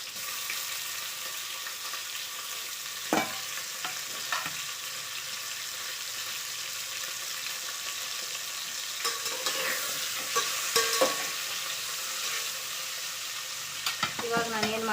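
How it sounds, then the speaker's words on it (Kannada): Dried bangude mackerel sizzles steadily in hot oil in a pan, a continuous loud frying hiss broken by a few clinks and stirring knocks, with no speech. "ಒಣ ಬಂಗಡಿ ಮೀನ, ಅವನ್ನ ಇದಕ್ಕೆ ಎಣ್ಣೆಯಲ್ಲಿ ಇಡ್ತೀನಿ"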